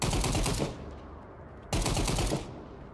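Automatic gunfire from a weapon in an Unreal Engine game asset, two loud sustained bursts of rapid shots separated by a short pause, with no talking.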